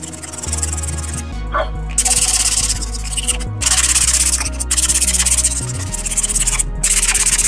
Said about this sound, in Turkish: yavaş yavaş zımparalıyoruz